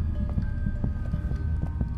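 Horse hooves clip-clop in a steady, fairly loud rhythm in the horror video game The Joy of Creation, with dense overlapping thuds over a continuous low game ambience.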